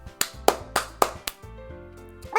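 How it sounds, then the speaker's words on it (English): A handful of distinct claps ring out in the video game Doki Doki Literature Club Plus, about five crisp slaps in a slow, spaced rhythm over a soft background tone. "Sayori finishes and we applaud."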